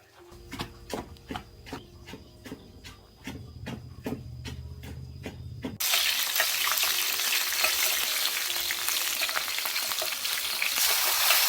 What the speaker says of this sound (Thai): เดี๋ยวพอละเอียดแล้วจะเอาไปคั่วนะคะ จะเอาไปผัด